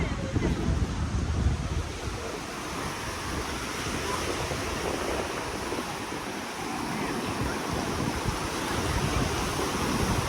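Ocean surf washes steadily onto the beach at Hot Water Beach, New Zealand, a continuous broad roar mixed with wind buffeting the microphone, with crowd voices faintly underneath.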